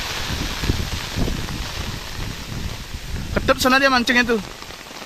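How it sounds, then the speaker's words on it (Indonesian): Rain and gusty wind during a fishing outing in Bali, a steady hiss of falling drops with rustling bursts; someone speaks near the end over the weather. "Tuh hujan angin, no."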